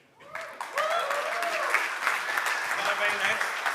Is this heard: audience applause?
yes